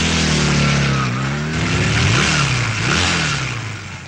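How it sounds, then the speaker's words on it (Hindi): Motorcycles race past with engines revving loudly, pitch sweeping up and down as they accelerate close by, in a continuous roar. "अरे ये क्या मोटरसाइकिल रेस क्या?"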